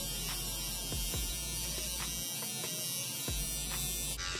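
Electric trimmer buzzing steadily close up while cutting hair and beard, with a constant motor hum and brief shifts in pitch as the blades pass through hair. It runs almost without break and no one speaks.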